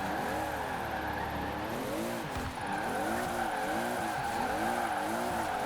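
Toyota GT86 sports car in the Forza Horizon 4 racing game, its engine droning low in the revs with wavering pitch and a steady tire skid hissing throughout, loud and continuous with no talk.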